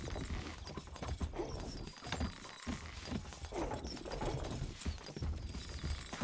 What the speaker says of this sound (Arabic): خيولنا جاهزة. اركب مثل الريح.